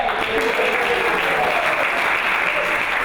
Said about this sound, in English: Let's hear it for Kathy and her kids